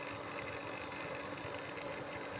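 A small motor pump drains a small village pond, running with a steady, even mechanical hum and rattling vibration. The sound is constant and moderately close, and no voices are heard over it.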